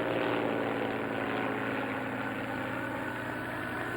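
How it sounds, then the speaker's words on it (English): Propeller plane engine drones steadily as the aircraft approaches in a 1966 Gammera film scene near a volcano, a dense continuous roar holding loud and even throughout with no talk. "Here comes the plane."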